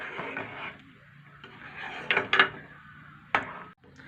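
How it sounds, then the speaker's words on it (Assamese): Rice kheer stirred in a pot over a low flame, a spoon scraping and knocking against the metal in irregular strokes, with a few sharper clinks standing out from the soft scraping. "এতিয়া এইখিনি মই লৰাই থাকিম।"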